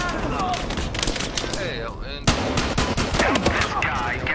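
Gunfire in the video game Battlefield Hardline, with loud rapid automatic bursts and sharp shots crackling close by and almost continuously, mixed with game sound effects and a voice talking.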